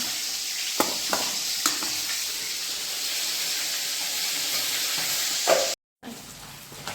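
Fish frying in a pan of oil gives a loud, steady sizzle and hiss with a few soft stirring knocks; the sound drops out briefly near the end, then resumes.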